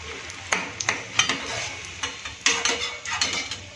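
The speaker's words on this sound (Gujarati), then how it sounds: "પલટાવી અને સારી રીતે ફ્રાય થવા દઈશું, જેથી કરીને અંદરથી પણ સારી રીતે આપણા કોફતા ફ્રાય થઈ જાય" Bottle gourd koftas deep fry in hot oil with a steady sizzle, broken by repeated clinks and scrapes of a utensil turning them in the pan.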